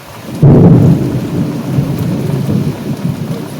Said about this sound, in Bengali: বাইরে এখন প্রচুর জোরে আকাশ ডাকছে বিদ্যুৎ চমকাচ্ছে বৃষ্টি পড়ছে